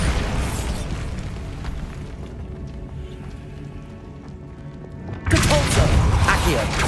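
A Bombarda blasting spell explodes in Hogwarts Legacy, a sudden loud broadband burst after a rumbling, lower-level stretch of game sound.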